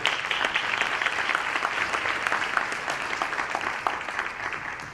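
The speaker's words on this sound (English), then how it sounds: "give brother Yusuf a round of applause as he comes up to share" An audience claps for a speaker walking up to share at an afternoon gathering, steady, dense applause from a moderately sized crowd filling the whole stretch with no talking.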